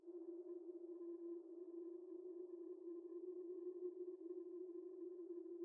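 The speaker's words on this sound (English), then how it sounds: "which is the polar drone in Serum with distortion in the effects" A continuous low Serum synthesizer drone with distortion effects hums steadily with a gritty, distorted edge, sustained at an even level without breaks.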